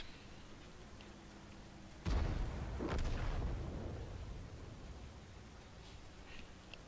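Artillery fires in the tank game World of Tanks: a sudden heavy boom with a broad rumbling blast that lingers and slowly fades over steady background noise, no voices.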